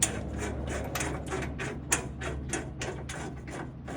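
Nuts being hand-tightened onto bolts of a Hustler FasTrak SDX mower deck, a rhythmic run of close metallic ratchet-like clicks and taps, with a louder knock midway and no speech.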